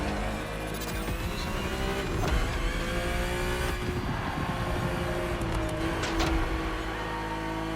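A BMW races in the video game The Crew Motorfest, its engine roaring loud and steady with shifting revs and tire noise throughout, no voices over it.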